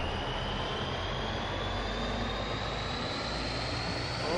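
A propeller airplane engine in the BeamNG.drive video game drones loudly and continuously, a steady near roar that holds throughout without pause or speech.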